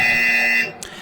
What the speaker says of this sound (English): And we get a buzzer.